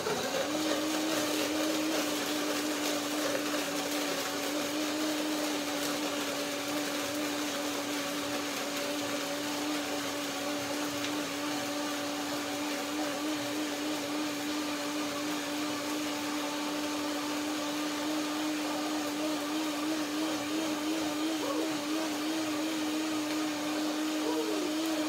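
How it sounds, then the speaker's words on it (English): A countertop blender whirs steadily while blending cashew milk with ice and water, a loud, constant motor drone with slight wavering in pitch, running alone without speech for about twenty-five seconds. "So I now begin to blender dance"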